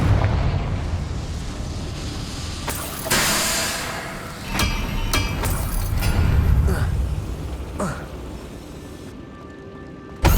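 Confringo blasting curse from Hogwarts Legacy, rendered as a string of fiery bursts and booming explosions with crackling debris, some sharp cracks and rumbling swells, loud and near, mixed with game speech and ambient combat noise.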